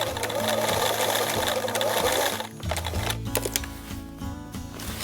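Sewing machine running a wide, tight zigzag stitch with matching thread over a military name and rank patch: a steady, close mechanical whir that changes pace midway, with a voice talking over part of it.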